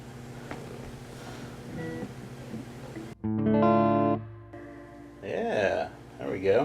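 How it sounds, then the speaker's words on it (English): A Fender Vibro King guitar amp, under repair for a fault of no reverb and a ticking tremolo, plays guitar notes with reverb engaged, leaving a washy tail, between stretches of talking. "now let's throw in some reverb"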